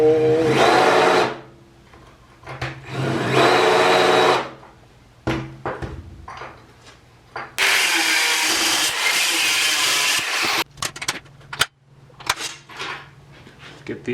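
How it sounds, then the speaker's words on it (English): A power drill bores holes in parts for a shop mount, running in several loud bursts of a second or two each, separated by pauses, clicks and handling noise. "Get these drilled out."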